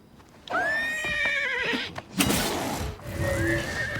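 A horse in the Elder Scrolls: Oblivion video game lets out a loud, shrill whinny, followed by a shorter snorting neigh and a couple of hoof clops.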